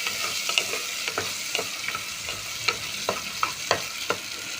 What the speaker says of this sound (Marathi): त्या कांद्यामध्ये मी हे कोळंबी घालते, व्यवस्थित परतून घेते